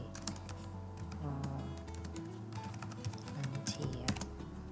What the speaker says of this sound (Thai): ที่แป้นคีย์บอร์ดกดปุ่ม A นะคะ